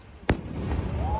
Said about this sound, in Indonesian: Ku dengar pertunjukan kembang api pantai ini yang pertama